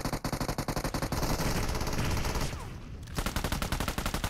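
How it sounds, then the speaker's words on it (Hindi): Gunfire in the mobile battle royale game BGMI: rapid automatic bursts with sharp, evenly spaced shots, loud and near, a brief dense volley in the middle, then another fast string of shots. "आराम से उसको फायरिंग करने देते"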